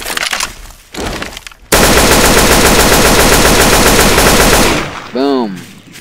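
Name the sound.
gunfire in Garry's Mod video game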